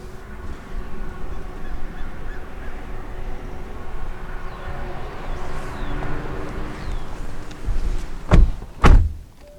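A 2018 Honda Accord Sport car door shuts twice near the end, each a loud, solid thump, following several seconds of quieter background rumble.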